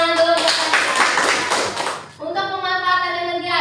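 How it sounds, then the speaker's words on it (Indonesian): A classroom of children claps together in a dense burst of hand applause for about two seconds, then the clapping stops and children's voices carry on. "Tepuk tangan dulu."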